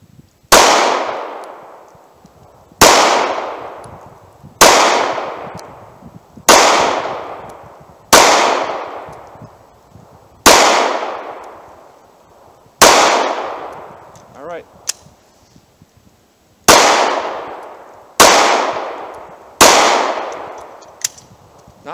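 Monarch JHP rounds fire from a pistol at a target outdoors in the cold: eleven sharp, loud reports at steady intervals of about two seconds, each trailing off in a short echo, with no talk between them.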